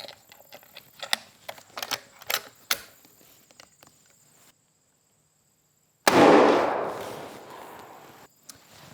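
A .444 deer rifle being fired outdoors at targets: a few sharp handling clicks, a brief silence, then a single loud, close shot whose blast rolls off in a long echoing decay.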